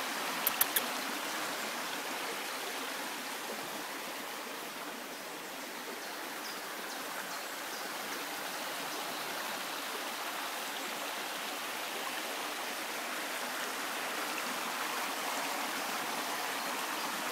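Water flowing steadily in a brook, a close, continuous rushing hiss with no breaks, and no talking.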